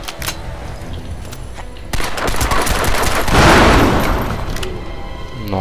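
In the shooter game Crysis 2, rapid bursts of automatic gunfire crackle before a loud explosion swells into a rolling boom, followed by scattered shots and fading debris noise.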